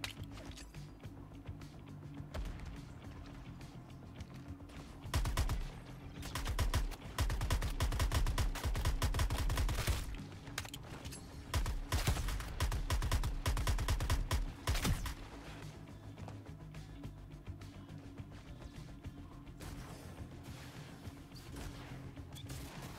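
Grenade blasts and gunfire in Suicide Squad: Kill the Justice League, played on a Steam Deck OLED: two loud stretches of crackling shots and crashing impacts over steady game ambience, with quieter clicks and mechanical sounds between them.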